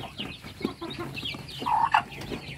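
A hen clucks close by among her small chicks, a run of short rhythmic clucks with a sharper squawk near the end.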